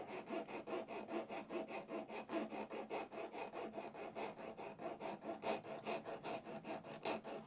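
A cross grain nicker is rubbed back and forth on a sharpening stone at a steady angle, giving a quiet, rhythmic scraping of evenly repeated strokes heard close and alone.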